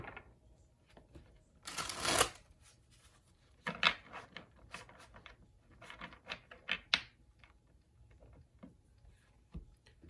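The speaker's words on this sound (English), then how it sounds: "let's get one more shuffle for you." Tarot cards being shuffled up close: a loud riffle burst followed by softer irregular flicks and snaps of cards.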